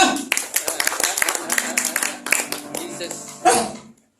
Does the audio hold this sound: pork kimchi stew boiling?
no